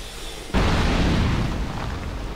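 A sudden explosion in the video game Dark Souls 2 erupts after a brief quiet lead-in, then a dense, loud rumbling blast rolls on and slowly fades.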